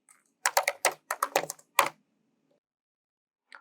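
Quick bursts of keystrokes on a computer keyboard as a command is typed into a Kali Linux terminal, a rapid cluster of clicks followed by silence and one last isolated tap near the end.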